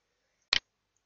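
A single sharp computer mouse click, crisp and close, isolated in near silence.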